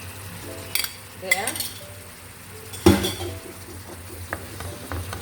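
Beef Vienna sausages dropped into a pan and stirred, with a low sizzle beneath sharp clinks and scrapes of a utensil against the pan, a few distinct knocks, and a brief spoken word at the end.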